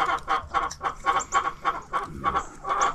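Rapid, repeated clucking from a nearby rooster, a steady run of short throaty notes with occasional higher squawks.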